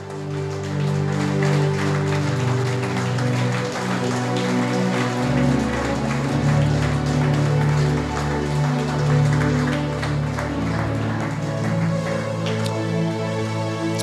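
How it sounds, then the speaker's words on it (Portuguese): A church congregation applauds during a worship service, a continuous rain-like patter of clapping mixed under sustained keyboard music throughout. "Aplauda Jesus."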